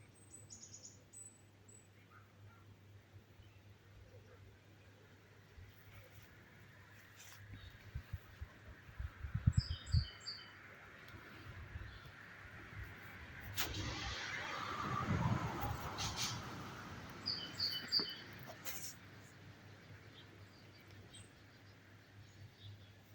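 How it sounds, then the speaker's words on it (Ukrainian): Birds sing on a morning outdoors, with scattered high chirps and short calls coming and going at a moderate distance over a low steady background hum. "Така ранкова краса зі співом пташок."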